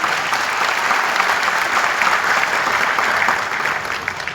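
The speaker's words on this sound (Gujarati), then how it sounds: "ચાલો એકવાર પોતાના ઉત્સાહ માટે ખૂબ જોરદાર તાળીઓ થાય." A crowd applauds loudly and steadily at a gathering, the dense clapping holding even from start to finish before easing slightly at the end.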